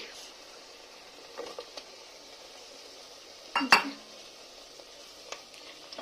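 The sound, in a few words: stirring chicken curry in a cooking pot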